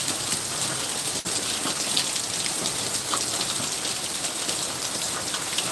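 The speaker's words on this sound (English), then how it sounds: "the raindrops here are cold. And it's really storming" Heavy rain pours steadily during a storm, drumming on an umbrella overhead, a dense continuous hiss with pattering drops and one brief sharp tap, with no voices.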